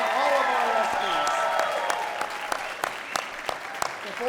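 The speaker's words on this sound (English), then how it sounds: "Let's give one more round of applause to Ms. Fuentes and to all of our ESPYs." Audience applause at an award ceremony for educational support personnel, a brief burst of clapping under a voice, then scattered individual claps tapering off.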